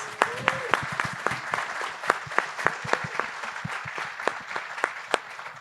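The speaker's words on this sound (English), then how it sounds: "can we give a round of applause to Jim, please?" An audience at a World AIDS Day arts event gives a round of applause, individual claps standing out clearly over a thinner crowd, fairly near and steady throughout.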